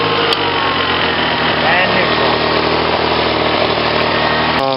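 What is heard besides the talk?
Honda BF40 outboard motor running on yacht tender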